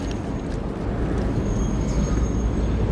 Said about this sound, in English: Excuse the noise in the background. It's just the subway as I'm taking a walk.